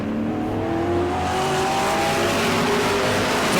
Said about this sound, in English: on these racing tires for these AMODs, they are setting up blistering pace out there